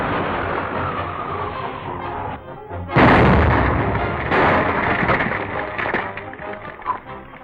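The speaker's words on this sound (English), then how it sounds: "Spider will think we've been killed by the explosion" A house blows up in a 1930s crime serial, with a sudden heavy blast followed by a second boom and rumbling debris, over a background of rushing noise.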